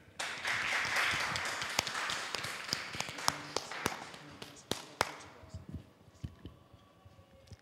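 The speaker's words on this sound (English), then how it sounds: "Let's clap for them." Audience applause at a televised youth show, a burst of clapping that starts dense and thins into scattered individual claps, with a few voices underneath.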